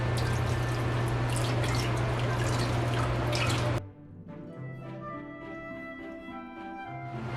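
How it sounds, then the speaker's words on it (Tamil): Water running and dripping while homemade butter is rinsed clean in a bowl, a steady loud splashing flow for about four seconds, then softer trickles and drips. "நான் இன்னொருக்கா கழுவ போகிறேன்."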